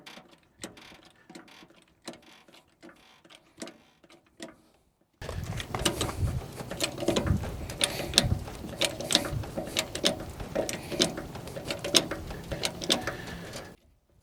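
A trailer jack ratchets as it lifts a trailer wheel off gravel: sparse, quiet clicks at first, then a dense, louder run of metallic ratcheting with a short handle, close to the microphone, no talking.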